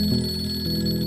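A phone rings with a steady electronic tone, sustained and fairly clear through a short stretch in a domestic scene of a Pakistani drama series.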